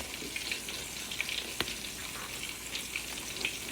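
Pork chops frying in a pan, a steady dense sizzle with faint crackling pops, close and continuous with no talk.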